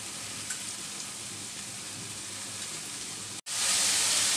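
Chicken and carrot go into a pan with frying onion and garlic, a steady close sizzle and hiss that suddenly grows louder and brighter near the end.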